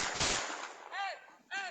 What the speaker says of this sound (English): Security camera footage shows it begin, first with a fight and a round of gunshots